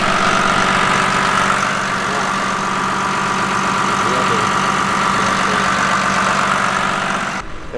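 A bulldozer engine idles steadily and loudly close by, a continuous low rumble with a faint knocking texture that runs almost the whole time before easing off at the very end.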